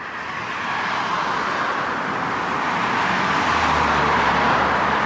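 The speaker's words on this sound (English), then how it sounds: "Now take a look at all this traffic" Steady road traffic noise on a street in Westwood, West Los Angeles, a continuous broad wash of engines and tires with a low rumble building slightly toward the end.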